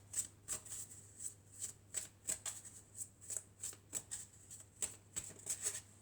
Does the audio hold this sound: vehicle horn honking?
no